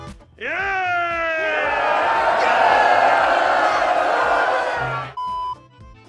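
Film extras in a movie scene let out a loud, sustained crowd cheer that rises sharply, holds as a dense roar of voices for several seconds and then cuts off abruptly.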